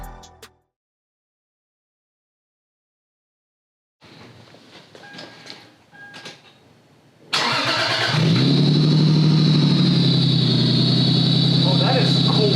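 Near silence, then a few clicks and rustles before a Lexus IS300 with an upgraded ISR exhaust cranks and fires, settling into a steady, fairly subdued idle.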